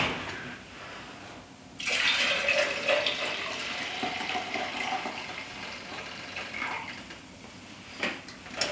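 Distilled white vinegar pours into a container for a batch of fermented hot sauce, a steady close liquid rush that begins after a short quiet moment and runs on without pause, with no voices.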